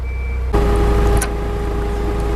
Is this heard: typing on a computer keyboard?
no